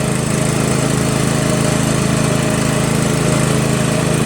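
A Yard Machines lawn tractor without a mower deck, repowered with a Briggs 14.5 HP flathead engine, runs close and loud with a steady, unbroken droning rumble throughout.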